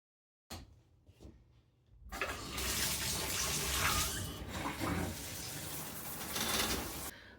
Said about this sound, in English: I'm going to jump in the shower